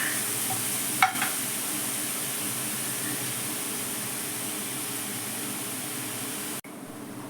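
Dried beef frying and being stirred in a pan gives a steady, close hiss of sizzling with a brief scrape of stirring near the start, continuing unbroken without talk.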